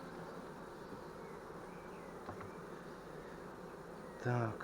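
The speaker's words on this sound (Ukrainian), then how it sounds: "Так струшуємо бджіл." Honey bees buzz steadily and densely as they are shaken off a frame taken from the hive, a constant swarm hum that runs throughout, with a brief thump and a short spoken word near the end.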